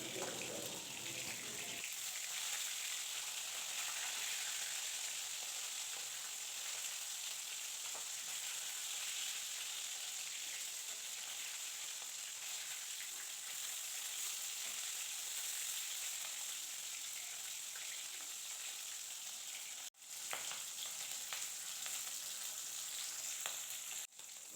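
Silver carp pieces frying in oil in a pan, with a dense, continuous sizzle that holds steady for a long stretch and a brief disturbance near the end, close and alone without voices.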